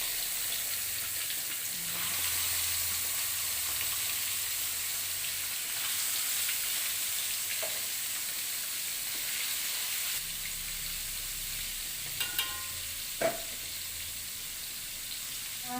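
Water spinach stir-fried with tauco in a pan gives a steady, loud sizzle throughout, with a few brief clinks of utensil near the end, close and without talk.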